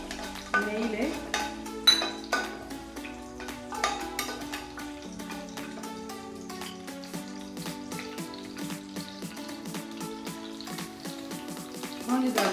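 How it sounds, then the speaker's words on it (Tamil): Raisins frying in heated ghee for homemade laddu, a continuous low sizzle with repeated sharp clinks of a spoon against the pan throughout, close and moderately loud. "நம்ம இதில் கொஞ்சமாக காஞ்ச திராட்சை வறுத்து எடுத்துக்கலாம்."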